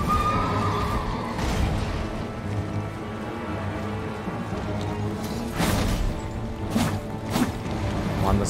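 A horse neighs in the video game Elden Ring, a loud whinny amid a dense wash of battle sounds and game noise that continues throughout.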